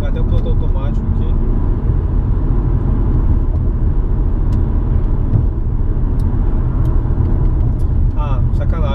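An Audi A7 accelerating hard at full throttle gives a loud, continuous engine rumble and road roar from inside the cabin, with someone talking excitedly over it.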